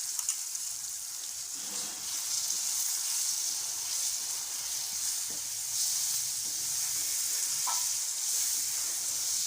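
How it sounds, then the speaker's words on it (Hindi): A spoon stirs beaten egg and sugar into semolina halwa in a hot pan. A steady sizzle and hiss runs throughout, broken by occasional soft scrapes. "उसे अब इसमें डालते जाएंगे और अपना चमचा है वो हिलाते जाएंगे"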